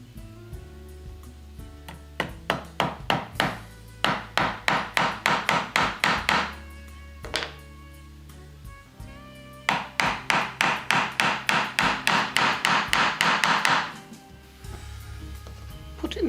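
Brass hinges are fitted into a wooden toilet roll holder with rapid bursts of sharp, close tapping, two long rhythmic runs of quick knocks separated by quieter pauses.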